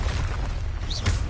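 A Confringo fire-blast spell cast in the Hogwarts Legacy video game gives a brief low, rumbling boom, with a quick rising whoosh near the end.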